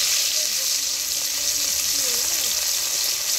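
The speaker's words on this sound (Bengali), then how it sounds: "এবার মাছটা দিয়ে দেবো" Fish dropped into hot mustard oil in a heated kadai sizzles loudly and evenly throughout, with a faint voice sounding beneath the frying.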